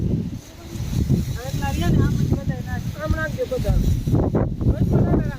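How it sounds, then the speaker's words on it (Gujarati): Strong gusting wind in a summer rainstorm roars and buffets the microphone steadily through the whole stretch, with people talking close by over it. "પવન કેટલો છે"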